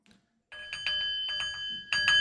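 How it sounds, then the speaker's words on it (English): A bell rings in several quick bright bursts after a short quiet start, moderately loud, with no talk. "Ring that fucking bell"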